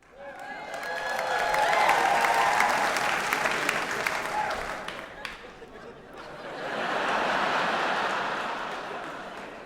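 Comedy club audience applauding and laughing at a stand-up set, a loud crowd wave that fades around the middle and then swells again with more clapping and cheers.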